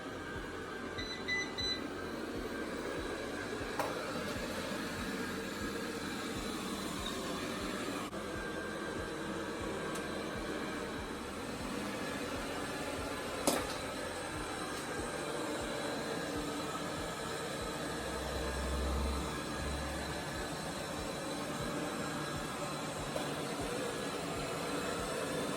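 A Laresar Grande 1 robot vacuum cleaner running on its higher suction setting gives a steady, soft broadband whir throughout, with a few faint beeps and one sharp click partway through.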